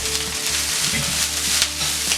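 Chicken and rice stir-fry in a pan for street-style Schezwan rice, a constant hissing sizzle with a spatula working through the food, close and moderately loud, with no talk.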